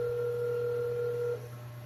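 A landline telephone being dialed to call a café's milk and coffee bean supplier: a steady dual-tone beep holds for over a second, then cuts off, clear and close with a low hum underneath and no talking.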